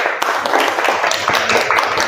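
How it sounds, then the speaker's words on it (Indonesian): Audience clapping in a classroom after a group presentation on photography services, a dense, steady patter of many hands filling the whole stretch at close range with no talk over it. "Ya, tepuk tangan presentasinya."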